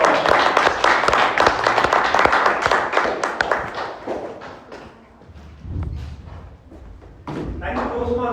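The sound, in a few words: audience applause for the TM Session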